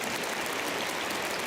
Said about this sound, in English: Let us welcome our 12-minute panelists from Korea, Japan, and United States with a warm round of applause.